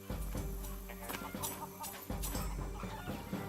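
Chickens cluck in short repeated bursts inside the Wild Wild West: The Steel Assassin video game, mixed over steady game music and background noise throughout.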